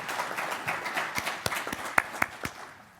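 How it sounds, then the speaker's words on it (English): Sparse clapping from a graduation ceremony audience for instructors and faculty, faint and uneven, with a few sharper individual claps standing out. "Instructors and faculty, they deserve a round of applause."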